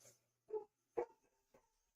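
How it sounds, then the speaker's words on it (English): A dog barks at a squirrel, three short muffled barks spaced about half a second apart, faint and distant as if from another room. "that's my dog."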